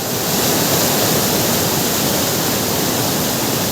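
River water rushes under strong pressure in a wild, rugged setting, producing a loud, dense, unbroken roar close by with no speech.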